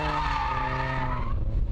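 Nissan Silvia drift car skidding sideways, tires squealing in a loud sustained screech with engine drone beneath, close and continuous for under two seconds.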